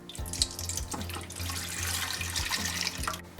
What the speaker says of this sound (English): let's add milk to a heavy bottom pan. I'm using 2 liters of whole milk.